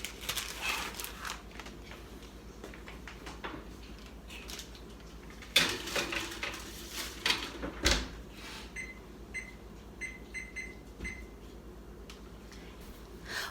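Cookie dough goes into a preheated home oven: scattered clattering and knocks of the oven door and tray, a sharp thud midway, then a few soft beeps from the oven controls, no talking.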